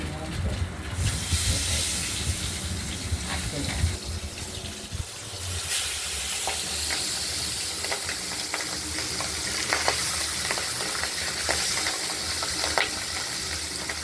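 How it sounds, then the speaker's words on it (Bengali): Pabda fish fry in hot oil in a home kitchen, a loud, continuous sizzle and hiss with scattered pops and stirring scrapes running the whole time. "আরও দুটো মাছ আছে সেই দুটো আমরা ভেজে নেব"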